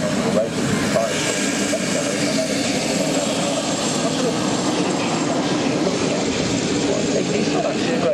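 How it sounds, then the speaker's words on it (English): Chinook helicopter rotors thudding during an airshow display at Duxford, a loud, continuous rumbling roar with a fast low beat, steady and close throughout. "You can feel that thudding there as the weight of the aircraft is coming down onto the rotor."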